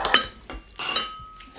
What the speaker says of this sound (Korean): 지금 제가 지금 비비고 있는 건 참치 덮밥인데요